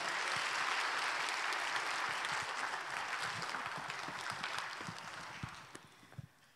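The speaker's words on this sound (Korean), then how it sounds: "나오실 때 큰 박수로 환영합니다" A congregation at a Wednesday church service claps to welcome a guest speaker, a broad wave of applause that fades over several seconds into a few scattered final claps.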